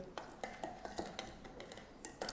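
A spice rub for air fryer ribs is stirred in a bowl, giving a run of light, irregular clinks and scrapes of utensil against the dish, close and fairly soft, with no one talking.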